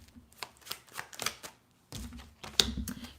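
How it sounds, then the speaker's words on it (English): A deck of tarot cards is split and shuffled by hand, giving a short run of crisp riffling and tapping bursts, close and fairly quiet, with no one talking. "as I split the deck open and shuffle"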